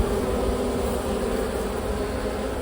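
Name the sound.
honey bees fanning at new hive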